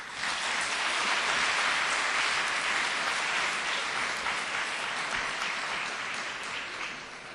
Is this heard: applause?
yes